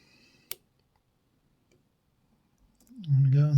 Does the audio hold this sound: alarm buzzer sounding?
no